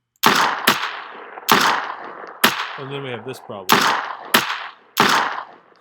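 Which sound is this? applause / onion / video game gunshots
video game gunshots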